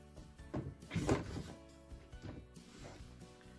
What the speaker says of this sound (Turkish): Ve çekmecemiz sona ulaştığında çıt diye mekanizmanın yerine oturduğunu duyabilirsiniz.